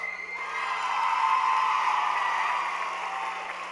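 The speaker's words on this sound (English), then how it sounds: "Give your family members a round of applause." A crowd at a school graduation ceremony claps and cheers together in a dense, sustained burst that swells and then eases slightly.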